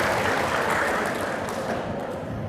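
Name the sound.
applause from the audience at a Muhammadiyah gathering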